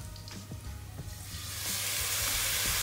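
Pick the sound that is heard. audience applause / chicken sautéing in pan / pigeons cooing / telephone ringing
chicken sautéing in pan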